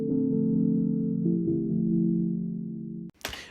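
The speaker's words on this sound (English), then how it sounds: "one of these sounds that I found was like a chord hit" A synth chord hit sample rings out as a sustained, loud harmonic chord for about three seconds, then cuts off abruptly, followed by a brief noisy burst.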